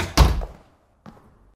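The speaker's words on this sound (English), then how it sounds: "Shut the door." A heavy door slams shut in a video game, a loud low thunk followed by a fading rumble, then a softer second knock about a second later.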